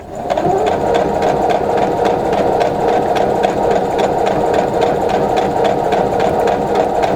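A sewing machine stitching a quilt block runs steadily at close range, its fast, even needle rhythm over a motor hum continuing without pause.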